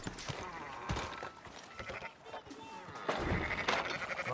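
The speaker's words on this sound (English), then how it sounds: "Fine sheep." Sheep bleat in a Red Dead Redemption 2 farm scene, a few calls mixed among game ambience and voices talking throughout.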